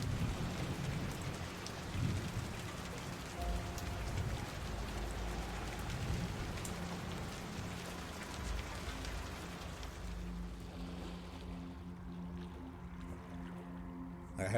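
Rain and rumbling thunder in the video game Logistics - AHOY, heard as a steady, quiet wash of rainfall with low rolling rumbles that fades toward the end.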